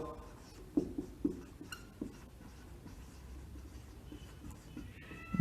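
Pen scratching on paper while a matrix-inversion maths solution is written out, soft irregular strokes and taps close up, low and steady with a few sharper touches.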